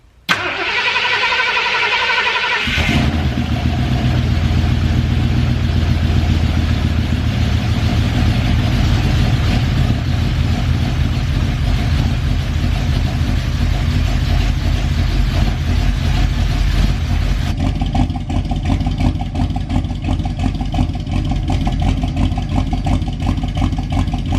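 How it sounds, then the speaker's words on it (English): A Ford 351M V8 car engine with new ACCEL 8mm plug wires fires up and runs at a loud, rumbling idle close by, steady and unbroken for the rest of the stretch. "we fire it up and see how it's running"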